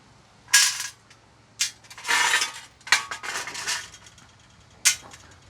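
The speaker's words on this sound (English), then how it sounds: "I'm just going to grab some of these screws and clean this area up." Small metal screws from a Fisher & Paykel condenser dryer clink and rattle as they are picked up and handled, a series of short, bright metallic bursts with quiet pauses between, close and fairly loud.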